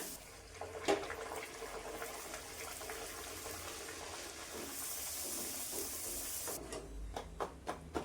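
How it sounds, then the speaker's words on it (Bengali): Luchi puffing in hot oil give off a steady, soft hiss and sizzle, faint and close, with a few sharp crackles and pops toward the end. "এভাবে সবকটা ভেজে নিব।"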